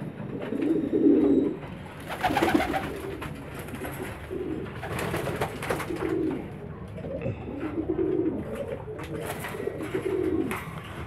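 Young homing pigeons, squabs and juveniles with five to seven flight feathers, cooing in a loft; soft repeated low coos rise and fall in several overlapping bursts over steady background rustle.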